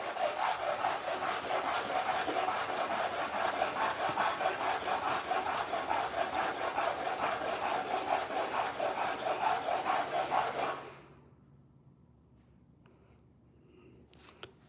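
Rapid rhythmic rasping of 80-grit sandpaper on a truck thermostat housing, close and steady for about ten seconds before stopping abruptly, leaving near-silence with a faint knock at the end.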